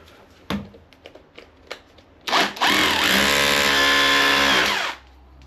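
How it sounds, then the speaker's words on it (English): Power drill boring a hole in a wall to mount a coat hook rail, a steady loud whine lasting about two and a half seconds after a few light knocks and handling taps. "Drill there."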